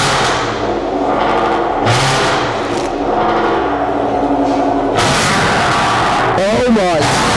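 Supercharged Range Rover Sport with a loud custom exhaust revving hard, a sustained loud roar with a sharp burst of throttle near the end, under overlapping voices.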